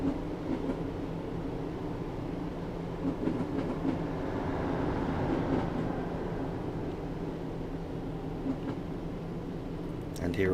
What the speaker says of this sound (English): So I'm just going to allow the train to coast along here for a moment